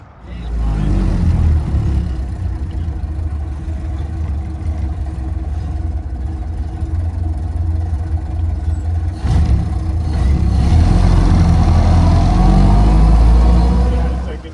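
A Ford Model A engine runs steadily with the throttle open, a loud, close, continuous low rumble that swells slightly louder toward the end.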